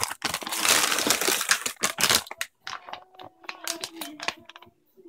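A bag of yellow round tortilla chips crinkles and crunches loudly as it is handled up close, a dense rustling burst followed by sparser, sharper crackles and taps with no talking.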